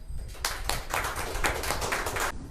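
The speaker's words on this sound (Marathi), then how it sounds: "ते पुढे येत असताना आपण टाळ्या वाजवू आणि त्यांचं स्वागत करू" A church congregation at a Sunday service clapping together in welcome, a dense, close burst of many hands lasting about two seconds before stopping abruptly.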